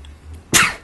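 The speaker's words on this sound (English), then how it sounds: "and I need to sneeze." A single sharp, explosive burst from a person close by, the sudden sneeze with a short breathy tail, loud against a quiet room.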